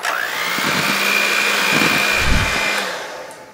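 An electric hand mixer beats pineapple upside-down cake batter made with milk and pineapple juice, giving a steady, close motor whine with low knocking from the beaters before it winds down after about three seconds.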